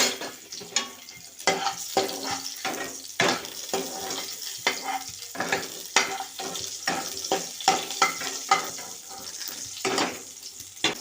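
Mustard seeds, cumin and onion fry in hot oil, crackling and sizzling steadily while a spoon stirs and knocks against the pan in an irregular rhythm, close and fairly loud.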